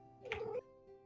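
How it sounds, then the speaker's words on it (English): A hungry cat gives one clear, close meow lasting about half a second over a quiet room hum. "I love the happy cat sounds."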